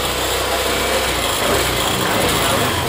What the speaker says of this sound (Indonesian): mesin nyala normal ya, responsif sekali untuk tekanan BBM-nya